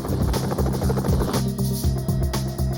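Police helicopter flying overhead, loud and close, with rapid rhythmic rotor chopping that pulses evenly throughout.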